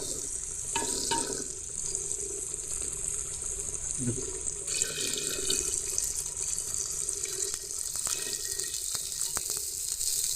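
Water is poured into chicken curry cooking in a clay pot, giving a steady splashing hiss with a sizzle underneath. It runs fairly faint throughout, with soft clatters near the end.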